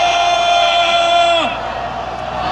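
A crowd at a rally lets out a sustained, loud shout together, one long held cry that breaks off partway and drops into a lower, noisier murmur of voices.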